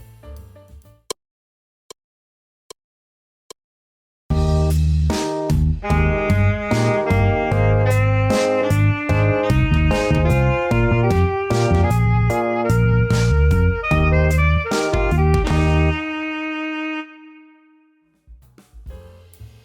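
Jazz saxophone plays a syncopated phrase over a full backing, with off-beat accents in a busy, steady groove after a few sparse clicks, then a held final note that dies away, with no talking.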